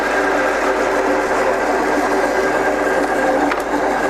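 A Scott 6250B lathe spindle runs steadily, giving a continuous close mechanical whir and hum with an even, unbroken level and no talking.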